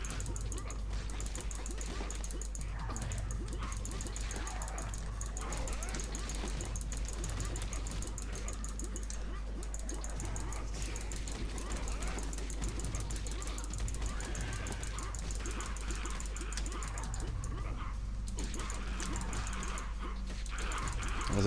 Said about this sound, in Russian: Видите, даже собачки будут прилетать мимо.